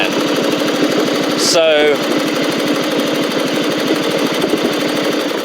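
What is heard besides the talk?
Craftsman LT1000 riding mower engine running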